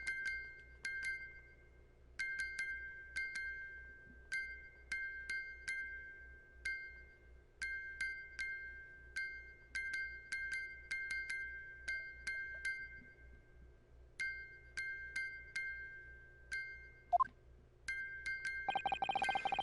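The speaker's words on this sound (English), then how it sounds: "the sound emitting from this music box" A music box in the video game Great Ace Attorney Chronicles chimes in bright, clustered metallic notes. The groups are irregularly spaced like a coded pattern, repeating softly for many seconds before a louder burst at the end.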